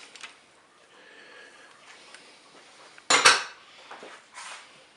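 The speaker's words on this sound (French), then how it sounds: "J'ai déposé mon moule dans la cuve du Cookéo." A baking mold set down into the metal pot of a Cookeo cooker, one sharp clattering metallic knock with a short rattle after, then faint handling clinks in a quiet kitchen.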